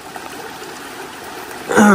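Stream water on a hiking trail makes a close, steady trickling and gurgling while water is gathered, and a voice starts just at the end.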